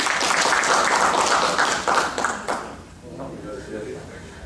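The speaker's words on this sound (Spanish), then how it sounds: "brindemos un fuerte aplauso para él" An audience applauds a doctor being introduced at a talk on state contracting and arbitration, a dense burst of clapping that fades after a few seconds into quieter room sound with voices.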